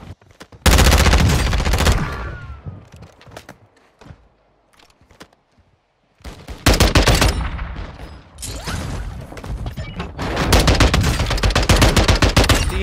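Loud DMR rifle fire in Warzone 2 comes in dense, rapid volleys, fades into a near-silent pause, then returns in repeated heavy bursts.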